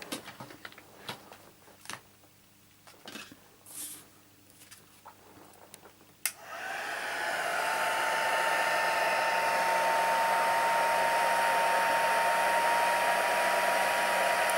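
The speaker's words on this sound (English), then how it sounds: "now I'm going to heat emboss this." A heat gun used for heat embossing a stamped card switches on after a few light taps and handling noises. It then blows with a loud, steady, close whooshing whine that continues to the end.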